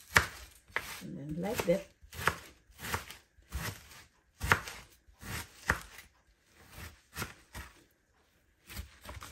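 A knife chops chicken into pieces on a board for a Filipino chicken curry: about a dozen sharp, close thumps in an uneven rhythm, with a short spoken remark early on.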